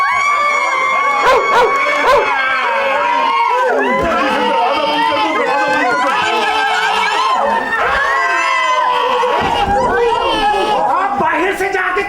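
A dog barks repeatedly amid loud, overlapping human voices and shouting, with the barks partly buried under the noisy chatter.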